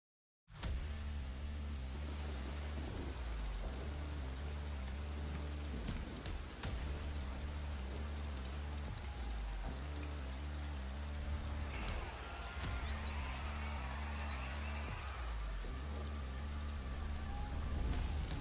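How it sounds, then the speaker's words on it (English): Heavy rain pours steadily over a motocross track in the MXGP 3 racing game, a dense continuous hiss with faint engine hum beneath. "That's actually a bit more than a little rain. It's like a bloody monsoon."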